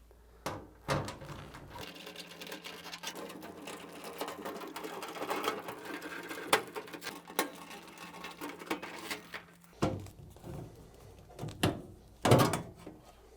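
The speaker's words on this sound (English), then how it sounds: "we need to remove this back panel by undoing the 6 screws using our 7mm nut runner" A 7mm nut runner undoes the back panel screws on a Hoover washing machine, giving a steady close motor whir for several seconds, then short buzzing bursts and knocks of metal and plastic handling.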